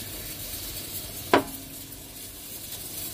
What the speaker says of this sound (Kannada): ಈಗ ರುಬ್ಬಿದಂತ ಖಾರ ಹಾಕ್ತಾ ಇದೀನಿ